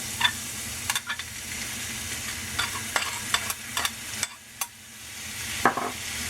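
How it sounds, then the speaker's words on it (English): Minced garlic sizzles in a hot pan while being stirred, a steady soft frying hiss broken by light utensil scrapes and taps, close and moderately quiet with no talking. "And then I'm going to go ahead and add my minced garlic."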